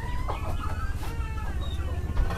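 Chickens clucking at a home in an Indonesian village, a run of quick, close clucks and squawks over a low background rumble, with faint voices nearby.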